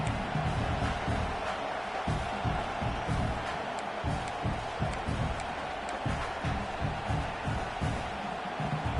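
A stadium crowd in the College Football 26 video game roars as a steady, broad din, with rhythmic swells of chanting and cheering near a red-zone defensive stand.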